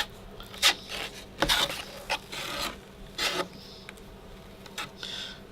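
A putty knife spreads drywall mud around a hole in a drywall patch, making quiet, intermittent scraping and rubbing strokes, with short pauses between passes and no talking.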